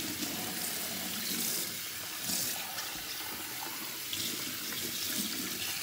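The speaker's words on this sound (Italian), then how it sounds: "vado a risciacquarlo bene. Utilizzo tranquillamente acqua fredda." Cold tap water runs steadily over a Nespresso Aeroccino milk frother as it is rinsed in a sink, a continuous close splashing rush with small shifts as the jug moves under the stream.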